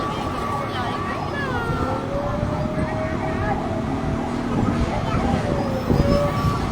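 A fire truck siren wails at a fire alarm in Tondo, Manila, its rising and falling tone holding steady over several seconds amid loud street noise and traffic.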